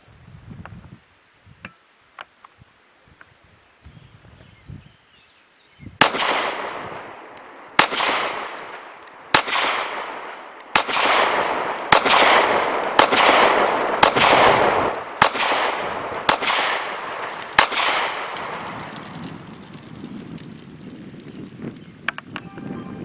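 Rapid gunfire from a Taurus PT111 G2 pistol fitted with a Lakeline spring, about a dozen loud, sharp shots in a fast, fairly even string outdoors, with wind noise and some quiet clicks before the firing begins.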